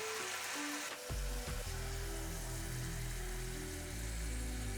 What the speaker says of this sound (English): it's very important that you pat them extremely dry before frying.